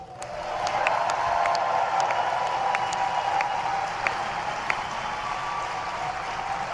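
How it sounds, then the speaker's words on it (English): Light, polite golf claps from an audience at a Democratic National Convention event form a steady patter of applause that fills the whole stretch at moderate loudness with no voices over it. "Love the golf claps in their clothes."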